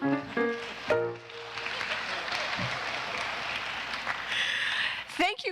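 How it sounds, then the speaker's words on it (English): Sustained crowd applause fills a commencement ceremony hall, rising after a brief spoken line and holding steady for several seconds before fading into talk at the end. "Thank you for the applause"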